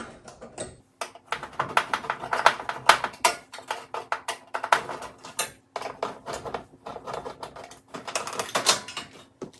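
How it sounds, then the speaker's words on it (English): Screws come out of the upper cover of a Samsung electric range, heard as a busy run of close, sharp metallic clicks, rattles and taps with short pauses, fairly quiet overall. "Let me take out the 5 screws here."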